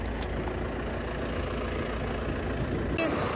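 A truck engine drones steadily from the open cargo bed of a pickup carrying hitchhikers in Thailand, a low constant rumble with a faint clatter near the end.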